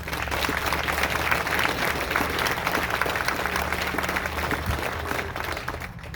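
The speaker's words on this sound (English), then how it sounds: "So let's all join in a round of applause for all the great people that helped make this bandshell a reality" A crowd applauds at an outdoor bandshell concert, dense steady clapping from many hands that holds loud throughout and eases slightly near the end.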